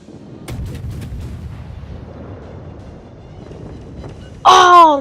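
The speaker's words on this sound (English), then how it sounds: "I'm just gonna fire some torpedoes over there" A warship in a naval combat video game launches torpedoes, starting with a sharp launch thud, then a low rumbling stretch, and ending in a loud burst of impact near the end.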